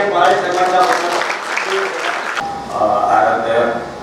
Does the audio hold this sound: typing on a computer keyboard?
no